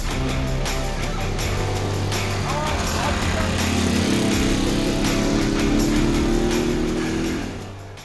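A freshly rebuilt, formerly rotten Honda CT70 minibike engine runs steadily after being kick-started, a continuous buzzy small-engine drone close by with a raised pitch partway through, with voices talking over it.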